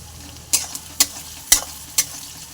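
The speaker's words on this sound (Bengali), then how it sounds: "এগুলো ভালো করে লাল লাল করে ভেজে নেবে" Capsicum with chopped chilli frying in a pan while being stirred, four sharp scraping strokes about half a second apart over a soft, steady sizzle, close and alone.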